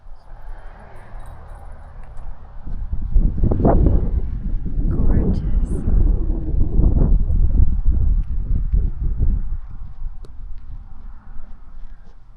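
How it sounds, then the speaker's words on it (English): Wind blows among giant sequoias on the Big Trees Trail in Sequoia, a low rumbling buffeting against the microphone with rustling, loud and steady for several seconds. "Oh, this wind feels nice."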